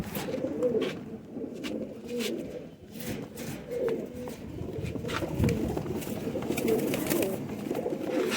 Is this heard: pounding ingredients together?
no